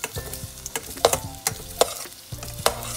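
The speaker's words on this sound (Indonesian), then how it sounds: "kita masukin sosis yang udah dipotong-potong, ditumis bareng bawang putih lagi" Cut sausage pieces sautéing with garlic in a pan, a steady close sizzle broken by sharp spatula clinks and scrapes at irregular intervals, with no talking.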